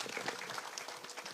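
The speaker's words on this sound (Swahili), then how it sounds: "Haya, pigeni hao wote makofi." Audience applause at a public security forum in Kiambu, a dense steady patter of many hands clapping throughout, loud and continuous with a faint voice mixed underneath.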